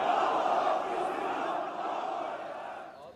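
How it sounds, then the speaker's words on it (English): A huge crowd prays together inside Istanbul's Hagia Sophia mosque with Erdogan, a dense, sustained roar of many voices that fades slightly toward the end, heard from a distance. "And a huge crowd prayed with him."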